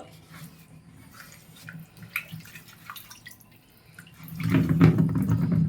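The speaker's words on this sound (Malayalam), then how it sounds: "ഇനി ഇതിനകത്ത് വെള്ളം ഒഴിച്ച് ഉടമ്പുളി ഇട്ടു കേട്ടോ" Water pours into a pot holding kudampuli for fish curry. Scattered light drips and taps give way to a louder, steady splashing pour at the end.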